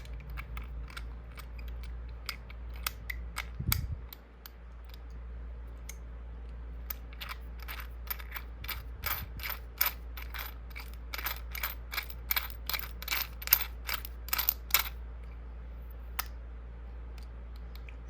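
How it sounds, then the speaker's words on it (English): A Hanayama level 2 metal chess puzzle is handled up close, giving soft, irregular metallic clicks and rattles throughout, quiet and without talk. "It just keeps clicking back into that same spot."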